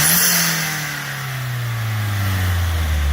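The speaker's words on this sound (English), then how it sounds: "Rev it up." A $5,000 manual performance car's engine revs hard up close, then the loud engine note sweeps steadily downward as the revs fall, with no talking over it.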